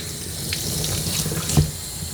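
Steady running tap water pours continuously while a dog is bathed, with a faint splash and brief clatter near the end.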